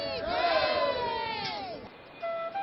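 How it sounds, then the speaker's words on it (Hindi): A crowd of devotees at Badrinath chants praises of Lord Badri Vishal, many voices rising together in a sustained swelling cry that fades, then a brief renewed call. "भक्ति में डूबे श्रद्धालुओं की भीड़ भगवान बद्री विशाल की जय जयकार कर रही है।"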